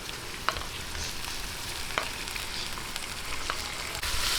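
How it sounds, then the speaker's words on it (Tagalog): Pork belly (liempo) sizzles steadily in a pan for kinamiasang pork adobo, a continuous close frying hiss with a few sharp pops and spatters, no voices. "medyo lang po ating gisa-gisahin hanggang sa medyo mag-light yung ating liempo"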